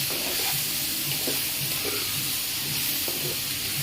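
Pumpkin greens with chili paste stirred in a pan, a steady broad sizzle with soft scraping strokes of the spoon recurring every half second or so, close and constant, no talk.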